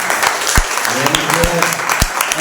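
Congregation applauding at a Sunday church service, a dense wash of clapping throughout with a few louder individual claps standing out nearby and a voice faintly underneath.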